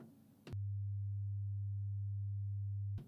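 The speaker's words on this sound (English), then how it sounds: "Then you can change it to a test tone." A pure 100 Hz sine test tone generated by a Midas M32 digital mixer, a steady loud low hum that starts abruptly, holds for about two and a half seconds, then cuts off, with faint background noise around it.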